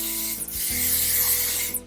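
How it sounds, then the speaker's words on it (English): Short, close bursts of hairspray hiss onto curled short hair, a loud continuous spray broken by a brief pause and ending with a final quick spritz, with nobody talking. "Now we're just gonna give it a good dose of hairspray."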